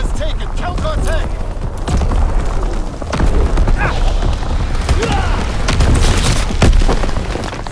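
An artillery battery fires in a war video game, heavy booms and thuds rolling through a noisy battlefield, with radio-style voice callouts over the top.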